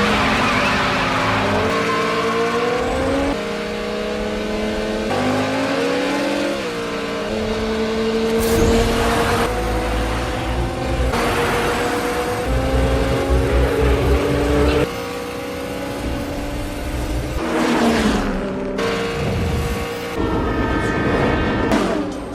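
Movie street race across railway tracks: several cars' engines roar and rev with rising, shifting pitches, loud and continuous for over twenty seconds, with tyre and impact-like bursts mixed in.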